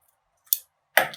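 Scissors trim a piece of paper for a mosaic collage, giving two crisp close snips about half a second apart in otherwise quiet surroundings.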